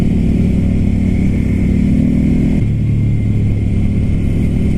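A Ducati Scrambler Flat Track motorcycle engine drones loudly and steadily while riding, with a shift in pitch partway through as the rider changes gear.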